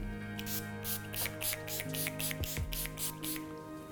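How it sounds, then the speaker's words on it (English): Urban Decay All Nighter setting spray misted onto a made-up face: a rapid series of about a dozen short hissing pumps, close and clear, over faint room background. "I'm just going to put some setting spray"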